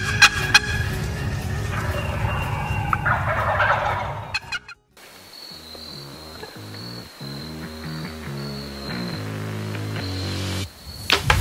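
Wild turkeys gobble in the woods, with several rattling gobbles in the first few seconds before a brief gap, then the sound gives way to other steady tones.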